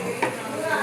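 Chopped green chillies go into hot oil in a frying pan for tomato rice, a brief burst of sizzle and a light scrape over a steady frying hiss.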